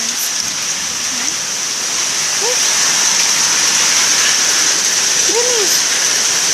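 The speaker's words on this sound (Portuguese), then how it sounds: "Ó, granizo." Hail falling outdoors onto the ground, a steady dense broadband patter with no gaps, loud and close, while a voice speaks briefly in the background.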